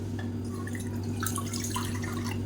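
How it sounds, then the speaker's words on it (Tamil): Water pours from a measuring cup into a cooking pan, a soft, steady trickle over a constant low kitchen hum, with no one speaking. "இதில் வந்து மெஷரிங் கப்பில் ஒரு கப் அளவுக்கு தண்ணி சேர்த்துக்கலாம்"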